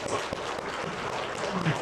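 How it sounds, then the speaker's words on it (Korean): A church congregation claps after an Easter sermon, a soft, dense patter of many hands heard from a distance, with the clapping blending into a rain-like wash. "하나님께 영광의 박수 한번 올려드릴까요?"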